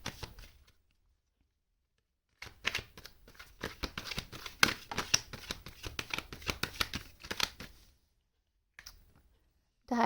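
Tarot cards shuffled and drawn by hand, heard as a dense run of rapid riffling clicks and slaps that starts after a short pause and stops before a few final card snaps.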